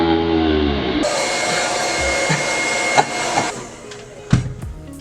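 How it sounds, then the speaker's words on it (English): A hair blow dryer roars steadily at close range, its pitch shifting as it is switched or moved, with a few knocks and handling bumps near the end. "I might have to go get my blow dryer from downstairs"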